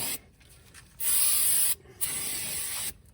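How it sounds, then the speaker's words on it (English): Brake cleaner hisses from an aerosol can onto a 2005 Ford Explorer XLT front hub in a series of close, loud bursts, short blasts first and then two longer sprays, with quiet gaps between. "Brake cleaner."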